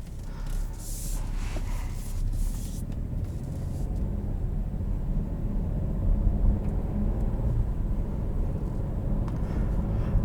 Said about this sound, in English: you'll hear it has a very, very distinct engine note, and that's due to the 3-cylinder